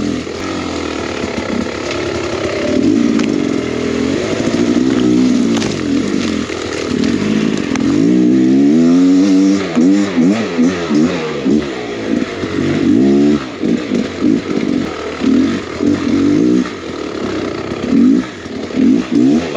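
A Beta X Trainer dirt bike engine revs hard and close, its raspy two-stroke note climbing and falling in repeated throttle blips, then settling into a choppy, pulsing idle with no voices.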